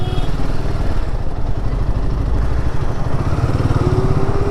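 A motorcycle engine runs steadily with a pulsing mid-low drone, loud and close, on the Mumbai–Agra Highway near the Narmada River bridges in traffic, with no one speaking.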